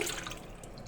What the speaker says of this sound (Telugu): ఈ పులుసుని తీసుకొని మనం ఇదే గిన్నెలోకి ట్రాన్స్ఫర్ చేసి